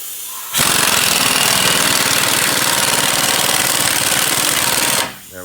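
A ball joint press forcing out a ball joint on a 1999-2011 Chevy Silverado or GMC Sierra truck gives a loud, steady, grinding mechanical roar that holds for about four and a half seconds and then cuts off. No one speaks.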